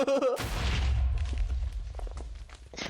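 A deep booming explosion in a video game erupts after a short voice, its low rumble rolling on and fading over a couple of seconds amid scattered debris noises.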